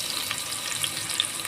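Steady hissing sizzle of chicken curry sautéing in a pan over the highest heat setting of a stove, continuous and fairly close with faint small pops.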